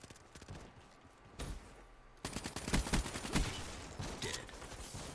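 Rapid gunfire in a Call of Duty gun game match, bursts of close automatic shots crackling in quick irregular succession after a brief lull, loud and dense throughout the second half.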